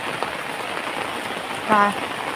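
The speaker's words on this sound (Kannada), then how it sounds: "ಮೋಡ ಹಾಕಿ ಮಳೆ ಬಂತು ಈಗ ಮಳೆಗೆ ಸ್ವಲ್ಪ ಹೊತ್ತು ಕಾದೆವು" Steady rain patters on a surface during a walk back from a temple, a continuous soft hiss throughout with a brief tonal sound near the end.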